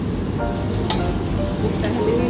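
Whole garam masala spices fry in hot oil for butter chicken, giving a loud, steady sizzle with occasional crackling pops, close up and continuous, with no voices.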